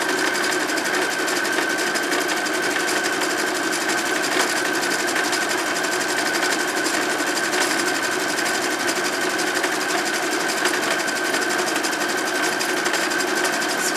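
A sewing machine stitching printed pad fabric runs steadily and close by, a fast continuous mechanical whirring hum with an even rhythm and no pauses throughout.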